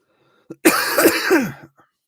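One rough, raspy cough or throat-clearing burst lasts about a second, close and fairly loud, with silence around it.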